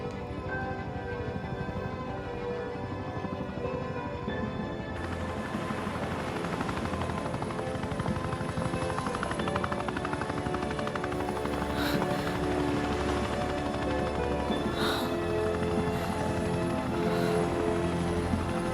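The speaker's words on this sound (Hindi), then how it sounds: "हमें यहाँ हेलीकॉप्टर उतारने का मैसेज आया था।" A helicopter's rotor thrums loudly and continuously, a dense steady chopping roar that stays close throughout.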